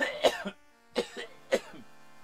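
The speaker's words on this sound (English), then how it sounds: "Had a bit of a coughing fit" A person in a quiet room has a short coughing fit: three harsh, close coughing bursts, each trailing into rougher throat sounds, separated by brief silences.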